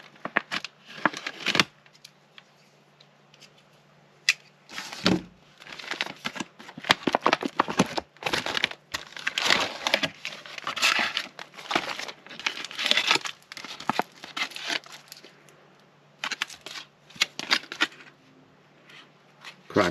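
A brown 1982 MRE food bag is cut open and handled, giving irregular, fairly faint plastic crinkles, rustles and snips in clusters over a quiet background, with no talking.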